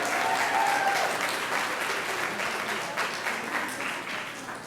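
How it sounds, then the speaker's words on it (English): A crowd applauds at a 5th grade graduation ceremony, with steady, sustained clapping from many hands that slowly tapers off. "Let's give a bigger round of applause to Miss Wallace and her great class."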